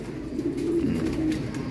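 Pigeons cooing in a breeding loft during breeding season, a continuous run of low, soft, throaty coos close by with no voices.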